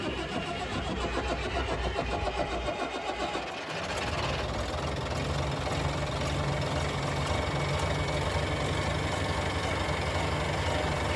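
A Fiat Allis dozer engine left to sit for ten years turns over and catches, then runs rough and uneven with a dense, rattling, knocking roar that stays loud and close throughout.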